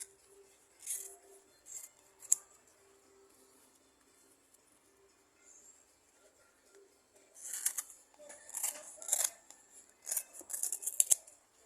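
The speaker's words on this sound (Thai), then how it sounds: "ตัดเฉียงขึ้นไปตรงมุมค่ะ" Scissors snip diagonally up the corner of folded material, first in a few scattered cuts, then in a denser run of crisp close snips and rustles over a faint steady hum.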